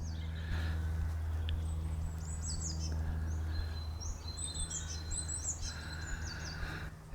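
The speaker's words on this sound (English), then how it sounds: "there's birdsong, crows, and very little traffic, which is great." Birds sing and chirp in bright, high phrases in an outdoor woodland setting with crows among them, over a steady low hum of distant traffic and engine noise, no talking.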